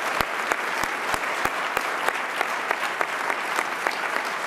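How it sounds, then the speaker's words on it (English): Audience applause at a political conference on the Americas, a steady dense clapping from a crowd with sharp individual claps standing out, fairly loud and continuous throughout. "would you please join me one more time in a round of applause for his terrific comments"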